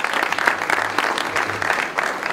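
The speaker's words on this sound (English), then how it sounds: "I think that logo needs a little bit of applause." An arena press-conference audience claps for a logo, steady, lively applause from a moderately sized crowd sustained across the whole moment, fairly close and even.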